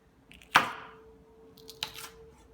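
A kitchen knife chops fresh tomatillos and jalapenos on a board, one sharp loud cut followed by a second softer cut, with a faint steady hum behind.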